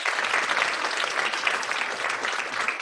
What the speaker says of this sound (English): All right, can we give Michelle one more round of applause?